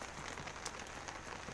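Rain falls in the month of Kuar during early morning at an ashram in Naimisharanya, Sitapur, making a steady, dense patter of drops on surfaces nearby.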